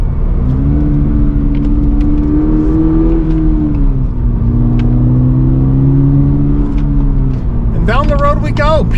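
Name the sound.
2024 Toyota GR86 manual accelerating after downshift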